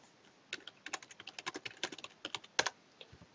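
Typing on a computer keyboard: a quick, uneven run of close, crisp key clicks that starts after a short pause, with one louder keystroke near the end.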